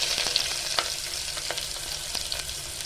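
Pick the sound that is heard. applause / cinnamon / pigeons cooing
cinnamon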